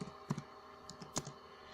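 Keystrokes on a computer keyboard come as a few sparse, quiet clicks with short gaps between them, close by in a quiet room, and no one speaks.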